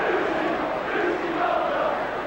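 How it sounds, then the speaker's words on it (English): A football crowd at Norwich City against Liverpool in 1989 chants for Liverpool goalkeeper Bruce Grobbelaar, a Kop favourite, producing a steady, dense roar of many voices with no break. "the crowd are calling for a Brucey Grobbelaar, who's a great Kop favourite"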